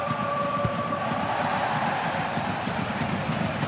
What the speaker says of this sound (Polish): I brawa dla Bayernu.